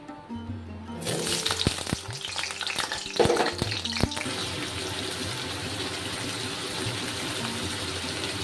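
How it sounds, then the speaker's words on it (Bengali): Potatoes fry in oil in a pan, a steady close sizzle and crackle starting abruptly after a second of quiet and running on continuously, with a few sharper clatters of stirring near the start. "এবার আমি আলুটাকে ভেজে নেব আগে আগে আলুটা ভেজে নেব"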